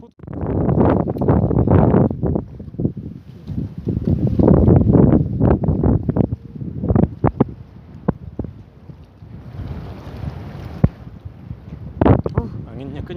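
Strong wind gusts across a fishing pier roar in a broad, buffeting rush. Voices talk over it, with scattered knocks and thumps between the gusts.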